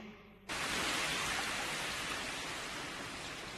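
Steady, dense rain falls in an animated series, starting abruptly after a faint half-second and holding a constant hiss with no talk over it.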